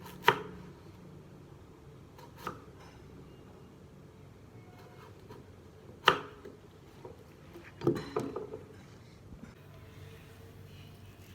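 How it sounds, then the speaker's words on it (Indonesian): A knife thinly slicing temulawak rhizome on a cutting surface, sparse sharp knocks spaced several seconds apart over a quiet background, close and fairly soft. "Kemudian kita iris tipis-tipis."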